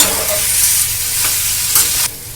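Spices and paste sauté in a pan for a capsicum chop filling, with a loud, close sizzle and the scrape of stirring that drops off sharply near the end.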